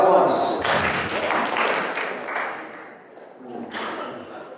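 An audience at a motivational talk claps in unison, giving a sharp group clap followed by another burst a few seconds later amid room murmur.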